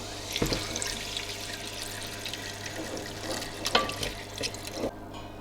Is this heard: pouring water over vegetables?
yes